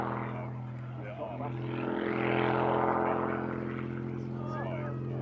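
A propeller aircraft flying an aerobatic display sequence at a classic aircraft show, its engine drone steady and moderately distant, swelling and shifting in pitch as it manoeuvres, with faint crowd noise underneath.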